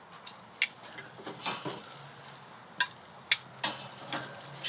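Shrimp and oysters on an outdoor grill give off a soft, low sizzle broken by several sharp clicks and clinks of tongs or utensils, close by, with no talk.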